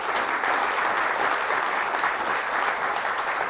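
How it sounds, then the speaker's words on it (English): Sustained applause from a crowd at a civic State of the City address, steady dense clapping throughout without a break, fairly loud and even. "Let's give our sponsors a round of applause."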